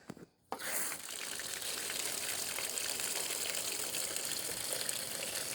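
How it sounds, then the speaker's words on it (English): Water poured over a car trunk gushes and splashes steadily after a brief pause at the start, a continuous close rushing pour with no voices. "now I'm gonna open this up here and let the water pour"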